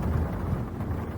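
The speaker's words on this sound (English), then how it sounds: "that thunder sound did sound like a Minecraft thunder sound" Low, rolling thunder rumbles steadily and loudly through the whole brief moment in the horror game Local 58, with a dense, washy texture like a storm.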